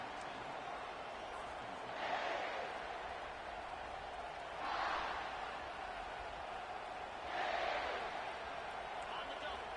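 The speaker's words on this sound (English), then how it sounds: "This crowd bringing an ear-splitting welcome to their visitors." A college football stadium crowd roars in three distinct swells over a steady background murmur, while a commentator talks.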